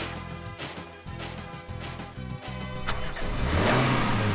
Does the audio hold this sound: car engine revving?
yes